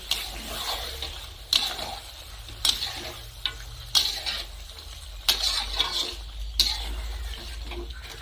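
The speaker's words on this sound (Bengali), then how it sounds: "দই খুব ভালো করে কষা মাংসের সাথে মিশিয়ে নিয়েছি" Spoon stirring whisked sour yogurt into slow-fried young goat meat in a pot, with soft scraping and wet sizzling strokes coming in regular bursts about every second or so, close and fairly quiet, with no talking.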